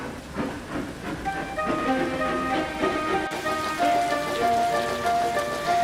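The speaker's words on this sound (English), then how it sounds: "the rain really came down" Rain pours down steadily on a surface, a dense continuous hiss close by, with a musical tone and a railway train sound running beneath it.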